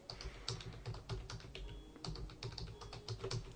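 A password typed on a computer keyboard: a quick, irregular run of soft keystrokes, close and quiet, with no talk.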